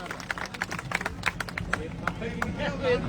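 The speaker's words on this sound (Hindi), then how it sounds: "दोनों भाइयों के लिए जोरदार ताली।" Applause and scattered clapping from a rally crowd in a village gathering, a few sharp claps over crowd babble and background chatter, moderately loud and close.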